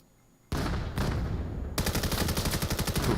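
Automatic gunfire in the VR shooter VAIL during a competitive match: a single loud shot and a short burst, then a rapid rhythmic stream of close, heavy rounds.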